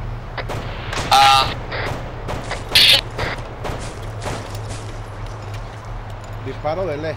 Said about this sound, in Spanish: Disparo del este, del este.